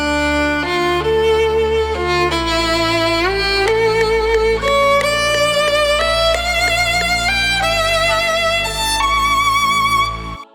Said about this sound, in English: I loaded the MIDI and I loaded the melody, and it sounds like this